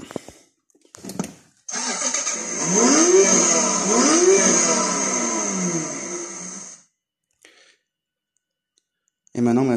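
A click, then a children's 12V electric ride-on car, fitted with a 20V Parkside battery, plays an electronic engine-start and revving sound for several seconds and cuts off, followed by more clicks.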